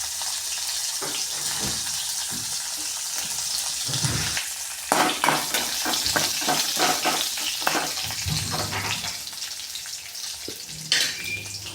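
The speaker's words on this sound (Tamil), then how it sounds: "நல்லா பொரிஞ்சதும் கருவேப்பிலையும் பூண்டு போட்டுக்கோங்க." Curry leaves and garlic fry in hot oil for a tomato bajji recipe, giving a steady, close sizzle with bursts of crackling and stirring scrapes throughout.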